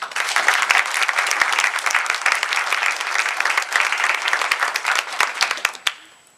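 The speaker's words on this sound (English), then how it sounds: "we owe everybody a big round of applause" Audience applause at a groundbreaking ceremony for a college health professions building: a dense, steady burst of many hands clapping for about six seconds, then tapering off near the end.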